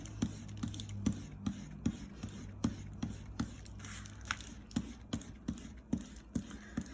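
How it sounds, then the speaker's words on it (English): An eraser rubs pencil lines off a drawing on paper in quick, repeated scrubbing strokes, close and soft, with a steady rhythmic back-and-forth. "So let's erase off all the pencil lines."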